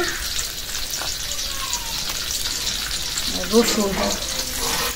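Dried red chillies dropped into hot oil sizzle with a continuous hissing crackle, loud and close, with a brief clatter near the end.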